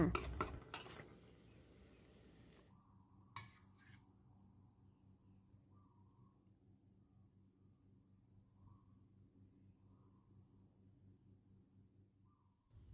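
Utensils clink and scrape as stir-fried mushrooms with egg and tofu are scooped onto a serving plate. A short cluster of close clatter comes first, then one faint tap, then near silence.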